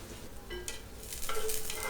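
Finely chopped green chilies, a little ginger and five or six garlic cloves sizzle and crackle in hot oil for chilli chicken, being stirred, with the frying growing louder toward the end; no voices.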